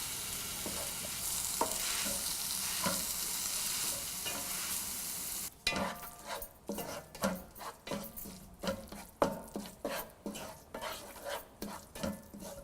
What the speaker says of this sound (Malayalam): ഇതിലോട്ട് കട്ട് ചെയ്ത് വെച്ചിരിക്കുന്ന ടൊമാറ്റോ ഇട്ട് നന്നായിട്ട് മിക്സ് ചെയ്യുക.